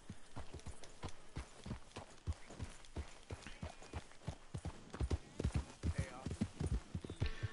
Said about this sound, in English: This is a pretty cool horse.